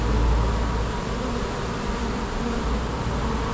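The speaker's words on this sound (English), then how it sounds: "But we've got bees flying now." Honeybees buzz steadily all around, a dense continuous hum with no gaps, heard close up while a colony is being removed from a bin.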